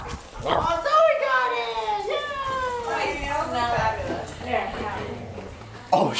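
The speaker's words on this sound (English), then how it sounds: "Dog fight." Dogs scuffle and bark at a party on a booze cruise, with whimpering yips and sharp barks up close, mixed with excited voices talking and shouting over them.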